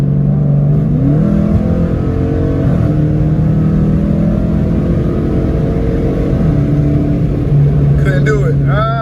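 A catless Dodge Challenger R/T pulls hard in traffic, its loud exhaust droning and climbing in pitch through several gear changes, close and heavy, with someone talking over the engine.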